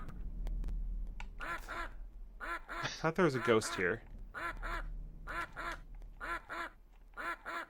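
Repeated cartoonish duck quacks come in short regular bursts from a video game, a whole army of ducks following a player character, with someone speaking over the quacking partway through.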